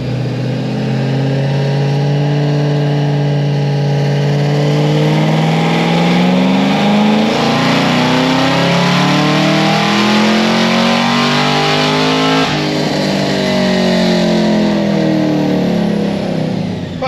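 A tuned car engine on low boost and 93 octane revs through a dyno pull, a loud continuous roar climbing steadily in pitch over about twelve seconds before backing off and climbing again, with no talk.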